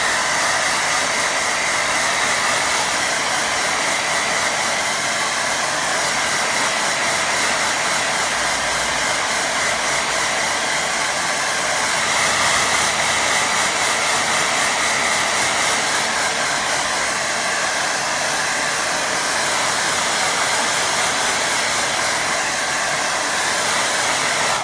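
A hair dryer blows steadily on a watercolour painting of a waterfall and lake, a loud continuous airy whir holding nearly level for the whole stretch with no voices.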